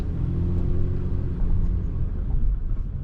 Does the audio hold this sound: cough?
no